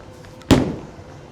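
A bowling ball crashes into the pins in a single sharp, loud impact midway through, followed by a quickly fading clatter, with only quiet lane ambience around it.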